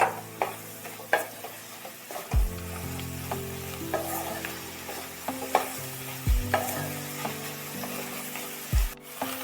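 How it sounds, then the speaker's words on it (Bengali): Ginger-garlic paste stirred and fried in a pan for a spring onion curry: steady sizzling with repeated scraping strokes of a spatula, close and fairly loud, and a few heavier low knocks against the pan. "ভালোভাবে একটু নাড়াচাড়া করে কষিয়ে নিতে হবে"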